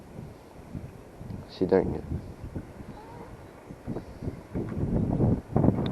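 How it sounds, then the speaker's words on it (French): Gusty wind buffeting an outdoor microphone in the Oise countryside, rising and falling in rough bursts close to the mic, with someone speaking French over it. "Il y a peu de temps, il n'y avait pas un gramme de vent, et là, ça souffle."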